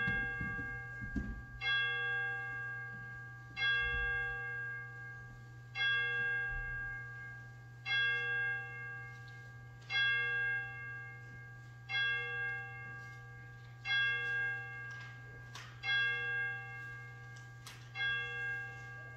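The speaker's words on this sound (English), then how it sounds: "we will let the chimes bring us into worship" Church chimes ring to open a worship service at Christ UCC in Schoenersville, a slow, steady series of about ten resonant bell strokes, each decaying before the next, over a low constant hum.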